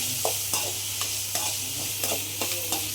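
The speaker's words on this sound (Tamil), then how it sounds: "100 கிராம் சின்ன வெங்காயம், அதுவும் போட்டு நல்லா வதக்கிக்கோங்க." Shallots, garlic and curry leaves sautéing in hot oil, a close, loud sizzle broken by regular scrapes and stirs of a spoon roughly every half second, with no voices.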